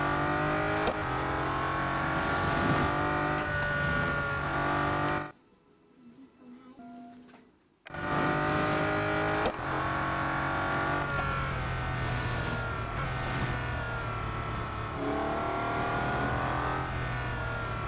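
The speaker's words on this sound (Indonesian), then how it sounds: "Dan Bugatti Mistral itu juga Bugatti terakhir yang menggunakan mesin W16." A Bugatti Mistral's W16 engine in Real Racing 3, a sustained engine roar with rising and falling revs that cuts out briefly to near silence, then resumes at full volume.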